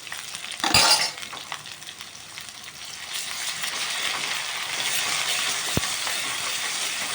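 Ginger garlic paste sizzling and frying in a hot pan, a steady crackling hiss throughout with a brief loud spatter and occasional clink of a spoon, no talking.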